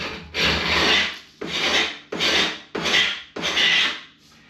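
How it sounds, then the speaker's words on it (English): A hand scraper runs down a door frame to clear old plaster from the edges. Five steady rasping strokes come one after another, close and fairly loud, each separated by a short pause. "I'm just going to run down the frames with one of these scrapers"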